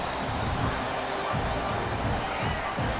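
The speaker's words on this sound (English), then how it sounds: "Listen to the crowd energy here in the early going." Broadband roar of a packed football stadium crowd early in a game, a steady wash of cheering and hubbub with swells throughout, no clear single voices.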